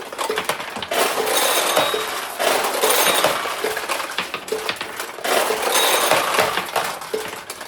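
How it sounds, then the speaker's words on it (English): Showers of small metal balls clatter and rattle out of the back of a restored 1975 Sankyo pachinko machine onto the floor in dense, continuous bursts, loud and close with brief pauses between waves. "What you're hearing are the balls dropping out of the back of the machine."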